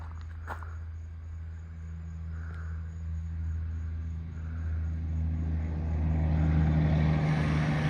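A recently repaired truck approaches from a distance, its engine rumble slowly building louder as it draws near, heard alone with no talking.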